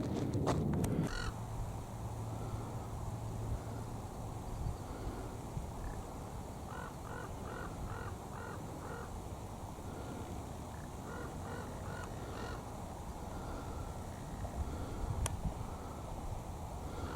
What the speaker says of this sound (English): now it seems to be crows have taken over the dump yard